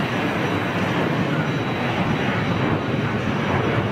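An easyJet jet airliner at Zurich Airport roars with a dense, loud, continuous engine rumble that stays steady throughout, with no talking.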